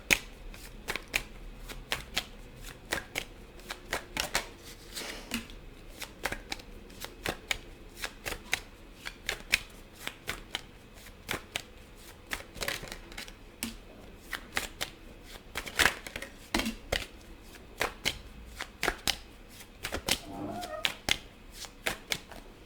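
A deck of tarot cards shuffled over and over up close, making rapid riffling bursts and soft slaps in an uneven rhythm, with no talking.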